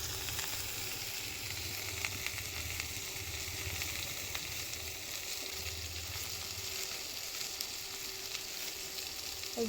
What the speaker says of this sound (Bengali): আলুটা আমার ভেজে নিচ্ছি